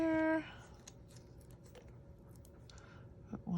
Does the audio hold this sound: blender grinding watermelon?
no